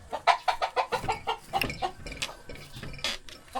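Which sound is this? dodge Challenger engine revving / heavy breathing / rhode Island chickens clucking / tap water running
rhode Island chickens clucking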